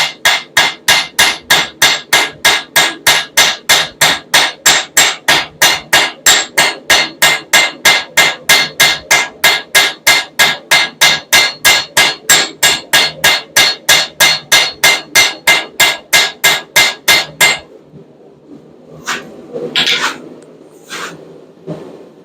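A hammer strikes metal on an anvil in a fast, steady rhythm of sharp, ringing blows while texturing a forged hummingbird, then stops, leaving a few scattered knocks.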